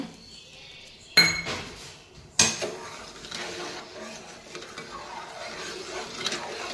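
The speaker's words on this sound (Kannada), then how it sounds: "ಶಾವಿಗೆ ಪಾಯಸಕ್ಕೆಲ್ಲ ರೆಡಿ ಮಾಡಿಟ್ಕೊಂಡಿದ್ದೆ ನೋಡಿ ಸಕ್ಕರೆ ಹಾಕ್ಕೊಳ್ತಾ ಇದ್ದೀನಿ ಈಗ" Sugar goes into a pot of vermicelli payasam being prepared as a puja offering and is stirred in, giving two sharp metallic clinks of spoon on vessel followed by steady soft scraping and stirring close by.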